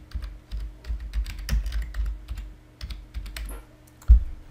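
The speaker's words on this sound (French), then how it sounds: "je vais taper Fastone Viewer" Typing on a computer keyboard while entering a program name into a web browser: an irregular run of close, crisp key clicks with occasional heavier thumps, no voice.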